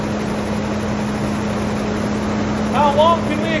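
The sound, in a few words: engine of a 1966 Imperial Crown running on its fuel pump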